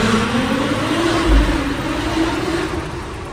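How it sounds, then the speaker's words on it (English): SUV engine with a catless downpipe and stock exhaust, a steady loud drone with a deep resonant exhaust tone and a brief low thump, running continuously throughout. "for a catless downpipe and a stock exhaust, like, this thing sounds insane"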